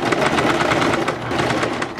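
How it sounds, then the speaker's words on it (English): A sewing machine stitches a fabric sleeve in a fast, continuous mechanical whir with a rapid rhythmic needle patter, close and fairly loud, with no talking. "Now we sew till here and stop."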